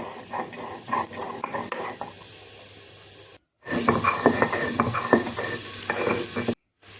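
Dry-roasted spices are ground on a stone slab with a grinding stone for a coconut-milk shukto. The sound is a loud, close gritty scraping and rolling that runs in two stretches with brief silent breaks and no talking.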